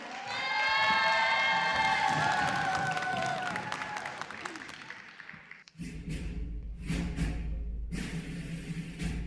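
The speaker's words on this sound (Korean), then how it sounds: "여러분 큰 박수 부탁드립니다." Audience applause and cheering for a youth dance team at a live open-studio show at a Buddhist expo, building as a crowd claps and shouts, then giving way to loud rhythmic thumps of music starting.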